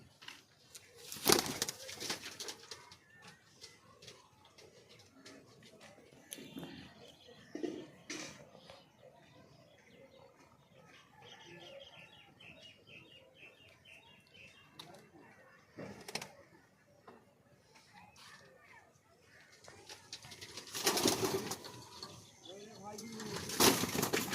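Pigeons of a bloodline kept in a loft coo softly in the background, with occasional bursts of wing flapping, while a person talks quietly nearby.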